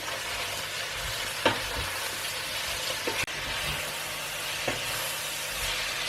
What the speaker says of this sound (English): sprinkle some salt on top and keep stirring